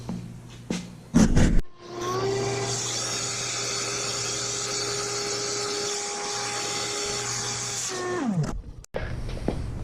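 A vacuum sucks metal chips out of a small engine, a loud steady whine that starts abruptly and runs for several seconds before cutting off, with brief handling clatter before and after.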